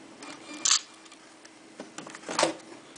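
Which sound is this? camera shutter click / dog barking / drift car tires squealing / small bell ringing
camera shutter click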